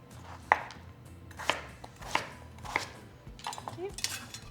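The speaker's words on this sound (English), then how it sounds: "now we're just going to roughly chop them" Potatoes are roughly chopped into medium pieces on a cutting board. About five separate knife thuds come at an uneven pace, close and clear in a quiet room, with no one talking.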